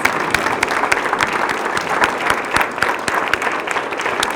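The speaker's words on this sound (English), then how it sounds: "Give our team a round of applause." A crowd at a New Bedford grant announcement event claps steadily for the Groundwork team, with dense, sustained applause that holds at an even level throughout.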